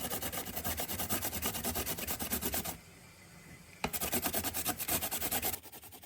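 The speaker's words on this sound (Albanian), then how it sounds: "tani do të grim edhe karroton" A carrot is grated on a fine grater in quick, rhythmic rasping strokes, a run of scraping, a short pause, then another burst of strokes.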